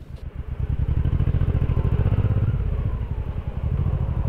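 A motorcycle engine thrumming up close with a rapid, pulsing throb, steady and loud throughout as it rides along.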